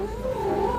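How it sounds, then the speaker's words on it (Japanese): A cat gives a short, drawn-out complaining yowl close up, a single wavering cry that rises slightly in pitch, with no talk around it. "ここには飼い主が一言言うたびに毎回言い返していた猫がいます。"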